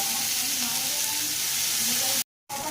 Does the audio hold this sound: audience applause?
no